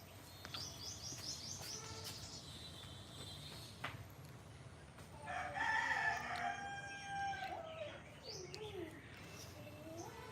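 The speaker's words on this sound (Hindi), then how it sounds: "मुर्गी का आवाज आ रहा है आप लोगों को?" A rooster crows out in the open at a moderate distance, one drawn-out call rising over faint background chirps and quiet ambient noise, with other birds tweeting around it.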